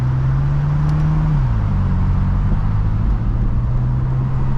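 A BMW M4 CS engine drones loudly and steadily from close by, its pitch easing down partway through, with faint crackles mixed into the exhaust note.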